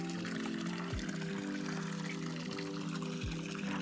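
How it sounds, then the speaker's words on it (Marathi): Pure spring water issuing from the mountain near a stone tank on the Ajoba hill trek splashes and pours in a steady, faint, continuous stream, with a couple of low thumps mixed in. "कारण का डोंगरातून निघते पाणी."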